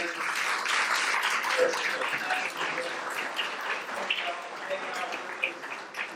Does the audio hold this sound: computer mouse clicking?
no